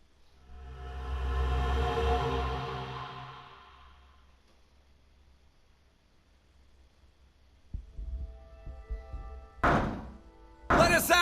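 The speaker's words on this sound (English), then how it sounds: "Bang all you want, it won't open." Heavy fists bang on a locked door in Zero Time Dilemma, a cluster of dull thuds near the end after a low swelling rumble, with a voice shouting briefly.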